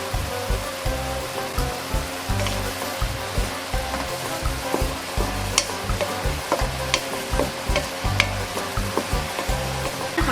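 Broccoli, pork and carrot are stir-fried in a hot pan for keto cooking, loud close sizzling broken by rhythmic, repeated scraping and tossing strokes with no voices.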